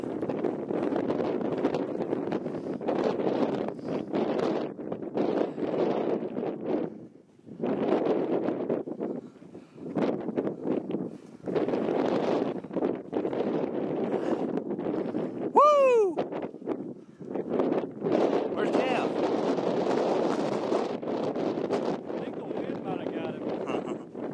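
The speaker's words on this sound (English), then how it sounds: "the wind's about to blow him away" Strong wind roars across an open mountain trail on the Appalachian Trail in March, buffeting the microphone in heavy, continuous gusts with only brief lulls, while voices talk over it.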